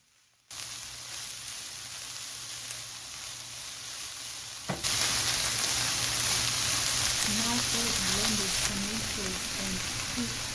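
Collard greens in a hot pan for a lentil oat bite filling: a sizzle starts suddenly and grows louder and brighter partway through, with faint voice-like tones near the end.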